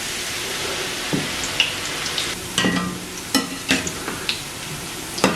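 Kara boondi batter poured through a ladle fries in hot oil with a steady bubbling hiss, broken by scattered sharp pops and crackles up close.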